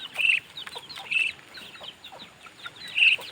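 Hybrid chickens on a farm clucking in short repeated bursts, moderately close, with a few louder calls standing out over a quiet background.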